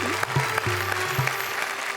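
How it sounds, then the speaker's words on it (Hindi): A studio audience at a Hindi poetry recital show claps briefly, a quick burst of applause over a low tonal hum, with faint voices underneath. "जरा तालियां बजाइए"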